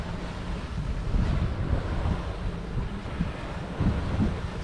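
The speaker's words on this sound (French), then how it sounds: "Une houle de face qui nous freine et qui tape vraiment" Head-on swell waves slam against a sailboat at sea, a constant rushing roar of water and wind buffeting with dull low thumps from the hull, heard alone.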